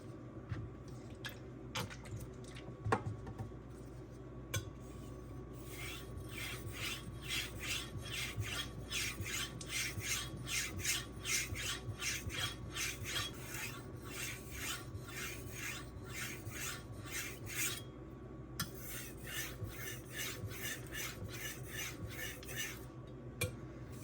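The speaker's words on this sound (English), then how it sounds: "I finish it off with long sweeping passes, like my normal sharpening stance" A kitchen knife is drawn across a Suehiro Debado 600/1500 grit whetstone in long sweeping passes, giving quiet, regular rasping strokes that build into a steady run before tapering off.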